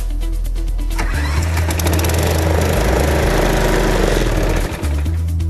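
A Briggs & Stratton lawnmower engine with ReadyStart electric key start cranks briefly, then catches and runs, a loud, close, steady buzzing drone with a slight dip near the end.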